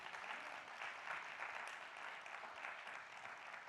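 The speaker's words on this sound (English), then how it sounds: "Give a round of applause for all of our greenhouse entrepreneurs." Sustained audience applause for greenhouse entrepreneurs at an entrepreneurship event, a dense, steady wash of many hands clapping with no pauses.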